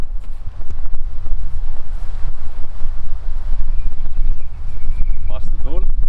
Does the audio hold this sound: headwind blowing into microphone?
yes